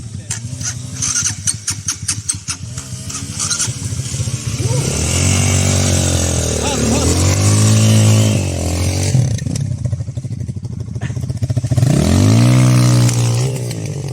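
Loncin LX300 motorcycle engine revving hard in deep mud, repeated rising and falling throttle bursts, loud and close, with engine clatter and some shouting between revs.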